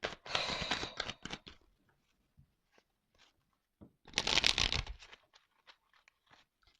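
Tarot cards are shuffled in two brisk rustling bursts, one at the start and one partway through, with soft scattered flicks and taps of cards being drawn between them, close and quiet.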